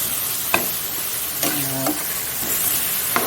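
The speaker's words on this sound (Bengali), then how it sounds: "এটা কষিয়ে নিই ডিম কষা" An egg curry being stir-fried: a soft sizzle under a few sharp spatula scrapes and knocks against the pan, spaced out, with no talking.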